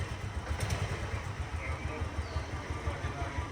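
A Royal Enfield Bullet motorcycle engine idles with a steady low thumping rhythm and some ticking, heard close and continuous while people talk over it.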